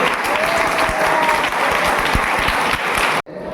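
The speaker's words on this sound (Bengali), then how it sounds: "পার্থ স্যারের জন্য একটা জোরে হাততালি হোক" Audience applause for a teacher at a school function, loud sustained clapping from many hands filling the room, cut off abruptly near the end.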